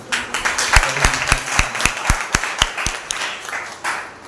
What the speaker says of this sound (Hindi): जोरदार ताली बजाना